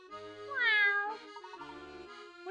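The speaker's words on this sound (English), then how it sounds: "That's a cat?" A cat in the Professor Layton video game gives a single drawn-out, rising and falling meow, close and clear, followed by softer trailing tones.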